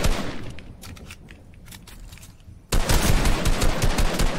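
Rapid bursts of automatic gunfire from a Fortnite match, a softer rattle early on and then a loud, close volley of quick shots from about halfway, with almost no talk.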